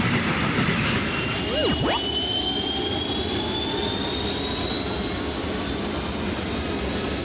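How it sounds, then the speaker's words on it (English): A high-speed train rushing past with a loud, continuous roaring whoosh and a thin whining tone rising over it, steady and close throughout. "High-speed train, a very fast train that zooms like lightning."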